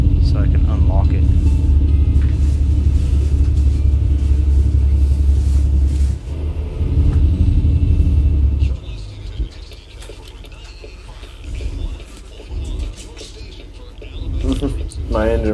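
A Kenworth truck in the American Truck Simulator game gives a loud, steady engine drone and road rumble that drops off partway through, leaving quieter rolling noise with brief bursts.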